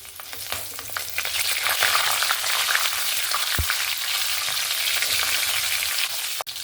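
Cumin, torn bay leaf, whole garam masala (cloves, cinnamon, cardamom) and two green chillies frying in hot oil, a steady close sizzle throughout with occasional stirring clicks and no talk.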